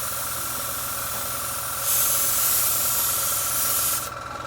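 Airbrush spraying thin test lines after cleaning and tuning for a clog, a steady close hiss that swells louder for about two seconds, then drops back to a fainter airflow hiss.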